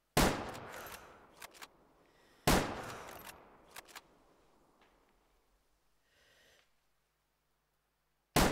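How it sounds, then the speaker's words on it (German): Three loud rifle shots ring out during an elk hunt in the video game Way of the Hunter, each a sharp crack with a decaying echo, followed by mechanical clicks of the weapon between them. "Wir haben jetzt 3 Schüsse draufgebracht."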